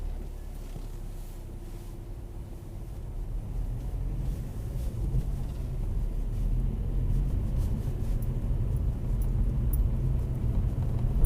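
A car pulls away on a driving test, a low engine rumble that builds gradually as it gathers speed, with some road and wind noise and no talk.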